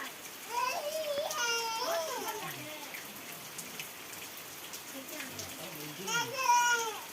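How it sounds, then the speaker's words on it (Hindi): Heavy morning rain falls steadily outside a home, a continuous broadband patter running under a voice talking in a casual vlog, with the speech loudest near the start and end. "वर्षार देखो केमती इे हो"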